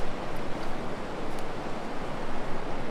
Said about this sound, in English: Here is the Wind River right behind me.